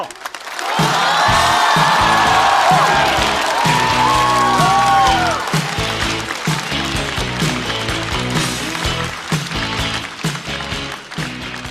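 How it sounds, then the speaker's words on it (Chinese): A stand-up comedy show audience breaks into loud, sustained applause and cheering with whoops as a comedian is welcomed on stage, then music carries on under the clapping. "让我们掌声欢迎重新归来的陈小静"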